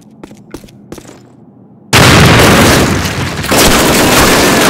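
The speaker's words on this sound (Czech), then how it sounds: "Dávejte pozor na výbuch!" A loud explosion blasts in at the two-second mark in the World War II shooter Call of Duty, following a few faint thumps, then a sustained roar of rumbling debris and gunfire fills the rest.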